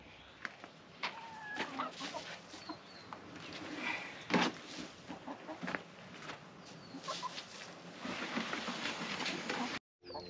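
Hens cluck and murmur softly through the clip, with scattered sharper calls and occasional rustling or thumps nearby.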